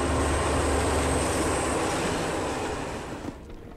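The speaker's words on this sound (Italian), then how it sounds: "Qui c'è il treno." A train in a CS:GO custom map rumbles steadily and loudly, a broad mechanical roar with engine-like drone that fades slightly toward the end, with no talk over it.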